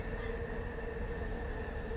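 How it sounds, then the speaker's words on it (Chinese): A light rail train on a commuter line runs past close by, giving a steady, loud rumble and hum that holds for the whole stretch with no pauses. "这个是另外一个轻轨，"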